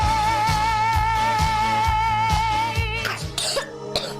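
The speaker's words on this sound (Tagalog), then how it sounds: "Ubo ng anak, nakababahala, baka plema." A child coughs in a rhythmic series of close, loud coughs with a steady tonal hum beneath, ending in a few throat-clearing sounds.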